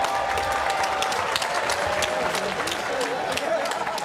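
A crowd in a casino arena at a bare knuckle fighting event breaks into dense, sustained applause and cheering, loud and continuous, with whistles rising above the clapping.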